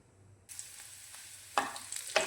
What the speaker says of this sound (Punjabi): ਇਹਦੇ ਵਿੱਚ ਆਪਾਂ ਜੀਰਾ ਲਸਣ ਤੇ ਕੜੀ ਪੱਤਾ ਪਾਤਾ ਇਹਨਾਂ ਨੂੰ ਭੁੰਨ ਲਿਆ